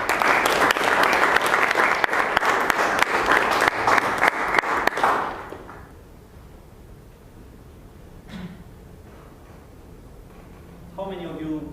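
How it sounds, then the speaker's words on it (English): An audience at a Toastmasters public speaking meeting applauds the final speaker of the evening, dense clapping for about five seconds before it dies away into quiet room noise, with a brief voice near the end. "the final round of applause for our final speaker of the evening"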